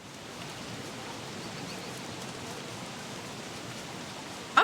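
Steady rain falling in a video game, a continuous soft hiss of even intensity with no voices, ending on a brief sharper knock.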